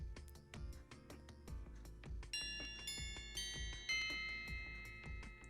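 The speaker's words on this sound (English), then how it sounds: "The bell rings, and with it begins lunch period." A school bell rings to start lunch period, sounding a repeated ding-dong chime that plays over a busy game soundtrack with layered tones.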